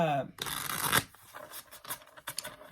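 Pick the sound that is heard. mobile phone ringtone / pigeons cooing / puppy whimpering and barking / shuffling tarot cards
shuffling tarot cards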